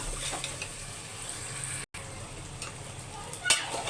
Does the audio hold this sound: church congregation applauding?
no